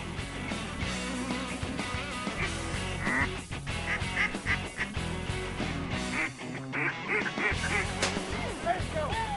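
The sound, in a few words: mallard ducks quacking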